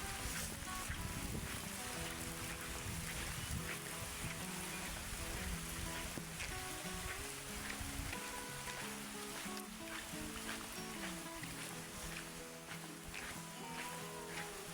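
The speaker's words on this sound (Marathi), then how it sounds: "पाऊस खूप लागतो आहे या बाजूला" Heavy monsoon rain pours over a Konkan village in the evening, a dense, unbroken roar of water hitting roofs and ground, loud and steady with no letup.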